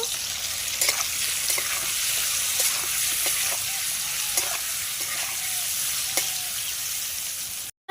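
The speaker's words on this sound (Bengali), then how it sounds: "হলুদ দিয়ে নেব দিয়ে ভালোভাবে নাড়িয়ে নেব" Pumpkin fried with salt and turmeric for a Bengali bhangor fish curry, stirred with occasional spoon clacks against the pan over a steady, moderate sizzle.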